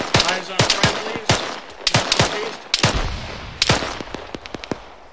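Arma 3 infantry training with rapid machine gun fire: irregular bursts of sharp, loud shots spread across the whole stretch, with short gaps between the volleys.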